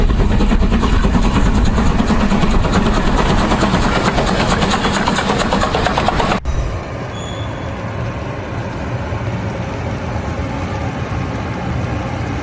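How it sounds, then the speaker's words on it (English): A Swiss self-propelled rotary snowplow working through deep Alpine snow on rails, a loud rumbling engine roar with a churning cutter, then an abrupt cut to a quieter, steadier engine hum. "That Swiss self-propelled rotary snowplow uses a massive spinning cutter and its own engines to chew through meters-deep Alpine snow"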